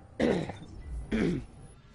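A person coughs twice in quick succession, close and fairly loud, the second cough a little shorter, with quiet between them.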